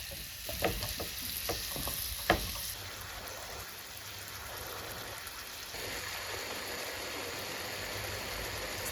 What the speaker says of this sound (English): Put the pan on a medium heat and begin to stir the pumpkin mass.